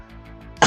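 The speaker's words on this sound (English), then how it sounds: "Coughing a lot tonight. Sorry, something's gone down the wrong hole." A man gives a single sharp cough right at the end of a short quiet stretch, close and loud.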